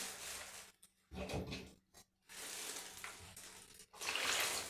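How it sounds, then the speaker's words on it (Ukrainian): Water pours from a container into a bucket of dry tile adhesive mix during a bathroom renovation, a close, splashing gush that comes in several bursts with brief silent gaps between pours. "Добавляю воду."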